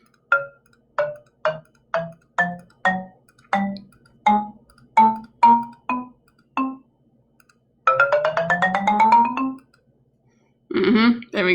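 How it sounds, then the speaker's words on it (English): An ascending chromatic scale played as a sequence of synthesized notes in Google Song Maker: about a dozen short, evenly spaced tones rising one at a time, followed by a sustained sliding tone and a final burst of notes. "Here's what our chromatic scale sounds like."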